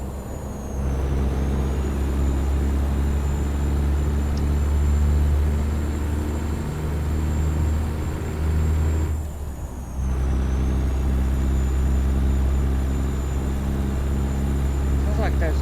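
A steady truck engine in American Truck Simulator drones at constant pitch, briefly dipping and then resuming, with a faint high whine above it.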